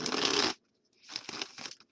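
A deck of oracle cards is shuffled close up, a half-second burst of crisp papery riffling, a brief silence, then softer broken flicks and crinkles of the cards.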